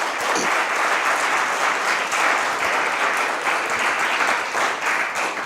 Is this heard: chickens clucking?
no